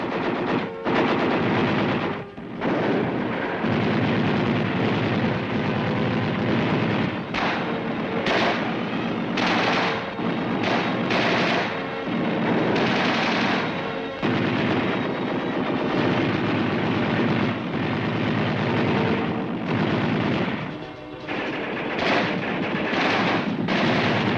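Machine guns and other infantry weapons fire together in a mass military demonstration, a loud unbroken wall of rapid bursts and blasts with occasional sharper reports standing out.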